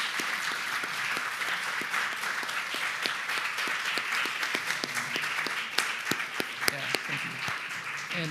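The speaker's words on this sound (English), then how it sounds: "a huge round of applause for them as well" Sustained applause from a large audience at a fellowship awards ceremony, dense steady clapping that holds throughout with a few sharper individual claps near the end.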